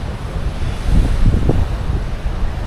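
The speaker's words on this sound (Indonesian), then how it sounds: "Seperti inilah wajah dari pantai selatan Malang yang berada di Jawa Timur ini." Ocean waves rumble and wash onto a beach on Java's south coast near Malang, a loud close surge with rolling low swells and wind across the microphone, without voices.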